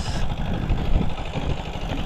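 A boat or machine engine idles steadily at close range, a continuous low rumble with no speech over it.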